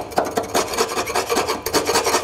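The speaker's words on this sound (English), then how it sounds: "I'll show you what happens. You just have a little scrape of that." Rough rasping scrapes over a hard surface as loose surface scabs are scraped away, a quick run of repeated strokes close up with no talking.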